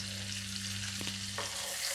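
Green chilies, ginger, almonds, cashews, butter, salt and Kashmiri red chili powder fry in oil for a shahi paneer gravy, giving a close, constant sizzle over a low steady hum, with brief stirring touches.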